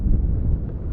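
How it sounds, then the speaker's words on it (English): Wind on a lake while fishing from a boat, buffeting the microphone as a close, low, steady rumble. "I hope the wind's not too bad here"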